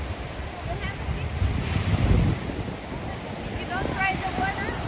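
Waves washing on the Baltic Sea shore with gusting wind buffeting the microphone, surf swelling loudly midway, and faint voices and high calls heard in the background.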